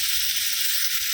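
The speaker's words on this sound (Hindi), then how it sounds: "हल्का सा इसको सीजल कर लेंगे" Masala sizzling in a pan while cooking chicken angara, a steady broad hiss that holds evenly at close range throughout with no pauses and no talk.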